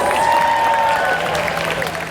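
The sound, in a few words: audience applause for Nicholas at Fear Factor Live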